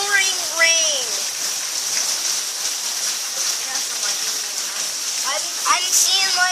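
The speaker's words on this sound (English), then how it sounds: "It is pouring rain." Heavy pouring rain during Hurricane Irma makes a steady, dense hiss throughout, with people talking over it.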